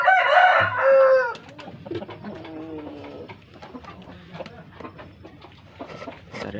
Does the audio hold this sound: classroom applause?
no